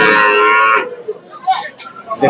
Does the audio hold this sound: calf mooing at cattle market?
yes